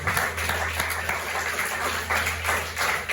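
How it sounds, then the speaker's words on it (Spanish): A church congregation claps together in a steady, sustained round of applause, moderately loud and evenly spread, with a low hum underneath. "¿Le puede dar un aplauso, una ofrenda de palmas?"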